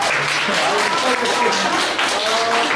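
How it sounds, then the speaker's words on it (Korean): Audience applause at a Korean advertising-industry seminar, greeting a professor's birthday; steady dense clapping fills the room throughout, with voices mixed in underneath. "축하의 박수 부탁드립니다"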